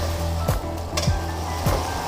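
Fried okra is stirred into sizzling, oil-rich masala in a pan, with a steady close sizzle and three spaced knocks of a spoon against the pan.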